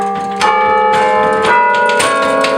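The carillon of St Henri, its bells recently retuned, rings out clearly and close, several tuned bells struck in turn, their bright tones overlapping and lingering.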